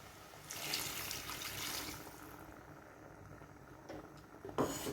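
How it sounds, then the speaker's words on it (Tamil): Water pours into a pot of mutton gravy, a splashing, gurgling rush that swells for a couple of seconds, then settles into a softer trickle with a final short splash. "இப்போ நம்ம இந்த கிரேவிக்கு தேவையான அளவு தண்ணி கொஞ்சம் சேர்த்துக்குவோம்."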